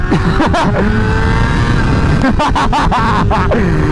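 Honda CBR600RR sport motorcycle (2008, fitted with a quick-acceleration chain and sprocket kit) rolling on the throttle in second gear, engine note rising loudly and steadily with rushing wind noise close to the rider.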